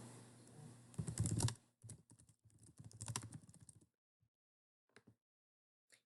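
Fast, close clatter of typing on a computer keyboard, dense bursts of keystrokes that stop, then a few isolated taps near the end.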